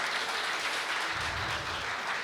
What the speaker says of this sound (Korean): 우리 다시 한번 저 두 분께 큰 박수 한번 보내주시고요.